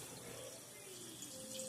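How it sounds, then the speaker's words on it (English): A sink tap runs steadily during hand washing in a nursing skills demonstration, giving a faint, continuous hiss of flowing water with no talking. "I'm going to go ahead and let the water roll off my hands from my wrist down."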